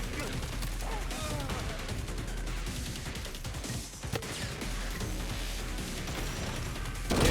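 Gunfire from the video game Madness: Project Nexus, rapid shots and crashes layered densely in a busy, loud game mix running the whole time.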